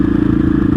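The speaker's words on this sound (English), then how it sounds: "Just today I installed a Remus header set on this bike. It makes it sound pretty good, and that went with the Sebring exhaust" A KTM 660 SMC motorcycle fitted with a Remus header and Sebring exhaust runs at a steady idle close by, a deep, evenly pulsing single-cylinder rumble with no voices over it.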